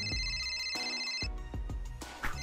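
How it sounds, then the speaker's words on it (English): A mobile phone plays a melodic ringtone, a loud, close electronic tune of repeating notes over a bassy beat, with no voices. "Ryuji, your phone is ringing!"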